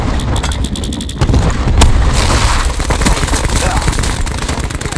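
A grenade goes off amid Call of Duty: Black Ops 4 multiplayer combat, a loud boom around the two-second mark surrounded by rapid mechanical gunfire and clatter, with faint voices in the mix.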